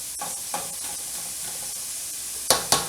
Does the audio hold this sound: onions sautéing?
yes